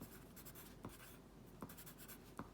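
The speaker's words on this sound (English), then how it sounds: "Maybe I'll write it out here." A pen writes out words on a surface, giving soft, close scratching strokes with a few sharper taps at regular intervals, quiet and without any voices.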